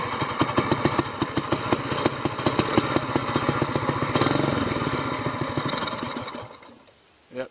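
A mud motor boat engine with an upgraded exhaust chugs steadily close by in rapid, regular pulses, then dies away near the end.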